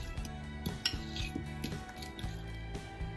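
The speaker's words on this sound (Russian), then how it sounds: "И хорошо все разминаю вилкой и перемешиваю до однородности." A fork mashes and mixes ricotta cheese, an egg and sugar in a bowl, giving quiet, rhythmic clinks and scrapes of metal against the dish, repeated steadily throughout.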